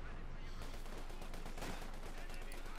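Bursts of rapid gunfire and machine-gun rattle from the Company of Heroes 2 battlefield, a dense, steady stream of shots mixed into constant battle noise, moderately distant and fairly quiet.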